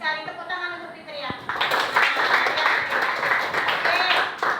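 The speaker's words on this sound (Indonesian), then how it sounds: "Tepuk tangan untuk Fitria." A classroom of students claps for a pupil named Fitria: a teacher's voice comes first, then a burst of close, dense applause that continues to the end.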